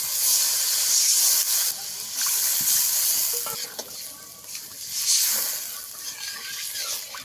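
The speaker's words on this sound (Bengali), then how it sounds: "এবারে ঝোলটা ভালো করে ফুটিয়ে নেব" A spicy, oily bhetki fish curry gravy with taro stolons boils in a pan, giving a continuous broad hiss and sizzle with faint bubbling that swells and eases over several seconds.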